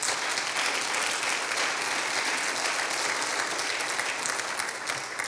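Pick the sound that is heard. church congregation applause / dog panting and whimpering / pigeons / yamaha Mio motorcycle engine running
church congregation applause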